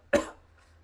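A single short cough, close and abrupt, followed by quiet.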